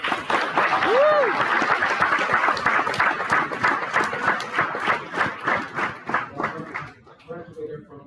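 Crowd applause and clapping at a live-streamed community evening event, loud and steady for several seconds with a brief whistle early on, then thinning into a few scattered claps as the clapping dies down.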